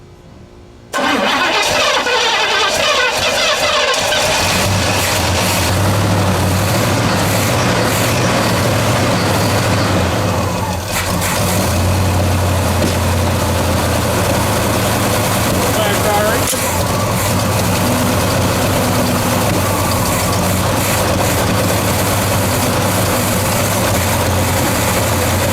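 A 1970 Pontiac GTO with a leaking carburetor that needs a rebuild, cranking and catching, then settling into a loud, rough, rumbling idle that runs steadily for over twenty seconds, with people talking over it.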